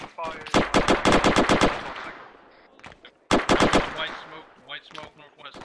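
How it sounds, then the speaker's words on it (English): Rapid automatic gunfire crackles in the Arma 3 military video game during an infantry operation, two long close bursts separated by a brief pause, with scattered shots and faint voices after. "I'm taking fire."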